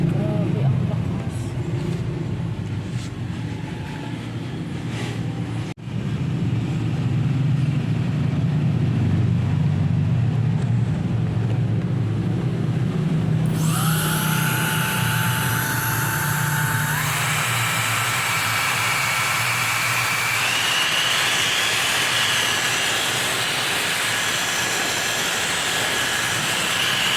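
A mini jet fan spins up from a low background hum into a loud, steady high-pitched whine that rises to full power and holds. A voice talks over the early part.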